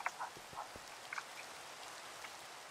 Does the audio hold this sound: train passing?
no